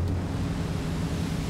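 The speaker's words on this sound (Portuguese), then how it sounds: "Agora está batendo um vento de 100 km por hora" Strong wind of about 100 km/h roars across the microphone over a broad rush of crashing 4 to 6 metre sea waves, loud and continuous for a brief moment.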